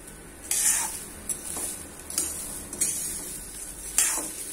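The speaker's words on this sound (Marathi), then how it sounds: "बघा आता गहू छान भाजल्या जाऊन राहिले आहे. याचे बघा कसा आवाज येतोय." Wheat grains roasting in a pan while being stirred, giving a soft continuous sizzle and rustle punctuated by several scraping strokes of the spoon against the metal, close and fairly quiet.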